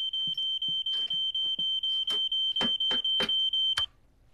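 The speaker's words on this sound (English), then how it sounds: "It's the smoke alarm." A smoke alarm in an animated comedy sounds a rapid string of shrill, evenly spaced beeps for almost four seconds, close and loud, mixed with a few thumps and clatters before it cuts off.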